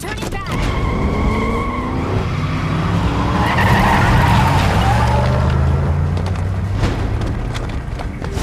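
Vehicle tires skid and squeal through a U-turn in the Metal Gear Rising: Revengeance action game, a loud continuous screech over rumbling engine noise lasting several seconds, with voices mixed in.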